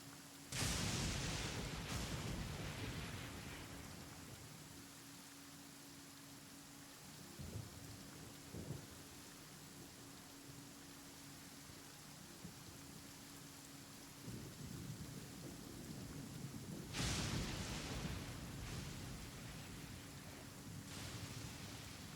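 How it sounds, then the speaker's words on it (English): Rain pours steadily in the video game Genshin Impact while thunder cracks loudly near the start and again later, deep rumbles rolling under the constant hiss of rainfall, with no speech. "I'm gonna skip time and hope for the rain to end."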